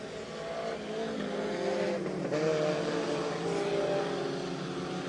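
Race cars run laps at the Path Valley track in 1989, a steady loud roar of engines throughout with a rising and falling pitch as cars pass, heard at a distance.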